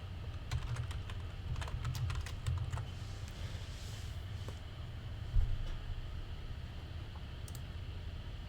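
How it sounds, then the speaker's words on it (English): Rapid typing on a computer keyboard during an engineering lecture, irregular clusters of soft key clicks over a steady low background hum, no talking. "Typing."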